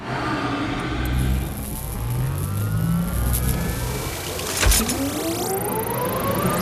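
A giant Jaeger robot's engine starts up in a film scene, a loud continuous mechanical roar with rising revving sweeps and a sharp burst partway through, with no talk.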